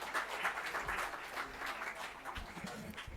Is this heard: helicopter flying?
no